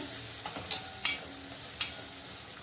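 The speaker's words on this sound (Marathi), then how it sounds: "आता आपण हा टोमॅटो चिरलेला आहे तो घालूया." Chopped tomato sautés in a pan, giving a low steady sizzle broken by a few sharp stirring scrapes and taps of a spoon against the metal.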